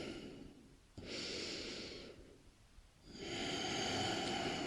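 Deep, slow breathing during a hatha yoga exercise, with a long airy inhale and an exhale separated by a quiet pause, close and soft, with no talking.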